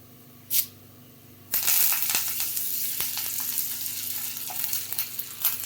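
Dried red chillies and curry leaves for onion sambar hit hot oil with a sudden loud sizzle that keeps crackling steadily, with scattered pops and stirring clicks, after a brief quieter lead-in.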